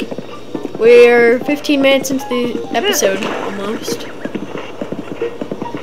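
Horse hooves clip-clopping in the video game The Legend of Zelda: Breath of the Wild, a steady trot that sits beneath continuous talking from people in the room.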